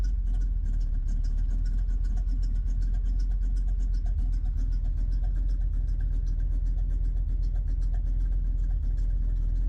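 A 1976 Ford Ranchero engine idling near 900 to 1,000 RPM, a steady, loud, close rumble with a fast even pulse throughout and no talk over it.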